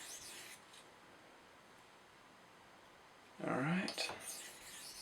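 A knife blade, a Spyderco Manix 2 in M4 steel, grinds across a 1200 grit whetstone in a short, loud scraping burst near the end, with faint rubbing before it.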